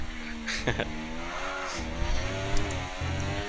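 A race car runs a demonstration lap on a circuit with uphill bends and rumble kerbs, its engine droning and shifting pitch with a short tire squeal, loud and steady throughout.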